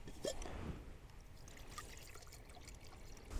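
Cold water trickles and pours softly into a container to mix a raspberry-flavoured fruit drink from a Danish 24-hour combat ration, faint and close, with a few small splashes and no talk.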